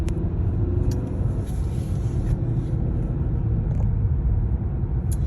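Car driving on the road, heard from inside the cabin: a steady low engine and road rumble throughout, no talking.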